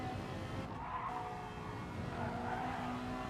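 Lexus and Ferrari race cars lap a track in a racing game, with a steady engine drone and tyre hiss that hold at an even, moderate level, and no voices.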